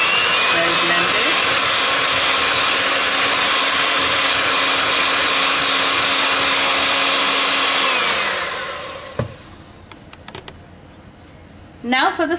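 An electric hand mixer creams butter and sugar for a Madeira cake, a loud steady whirring drone that winds down and stops, followed by a few clinks and a voice speaking.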